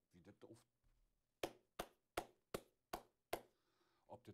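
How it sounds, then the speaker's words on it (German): Seven sharp hand claps in a steady, evenly spaced rhythm, picked up close by a USB omnidirectional condenser PC microphone, after a few quiet spoken words. "Jetzt testen wir auch mal klatschen"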